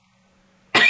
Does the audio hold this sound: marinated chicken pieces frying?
no